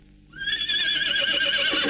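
A horse neighs in a 1948 Tamil feature film, a single loud, close whinny that rises suddenly and holds with a quavering, wavering tone for over a second, heard alone without talk.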